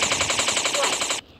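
Rapid automatic gunfire in a video game fires as a fast, even stream of shots, loud and close, then cuts off abruptly near the end.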